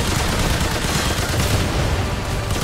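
Dense, continuous gunfire in the Remnant 2 video game during a boss fight, with loud rapid overlapping shots and no break.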